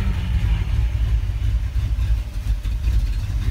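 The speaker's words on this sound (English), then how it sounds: "He always had a rough idle, but you get him above idling, he just smooths right out." Old car engine idling roughly after a cold start with no gas applied, a steady low rumble with uneven pulsing that runs loud and close throughout, with no talk over it.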